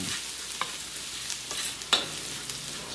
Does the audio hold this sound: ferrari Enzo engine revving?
no